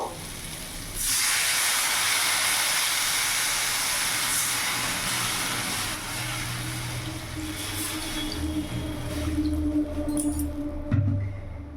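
Water poured into a hot pan of fried spices and grated ginger for a vegetable curry bursts into a loud, steady steam hiss. It starts abruptly, stays close and strong for about ten seconds, then cuts off with a thump.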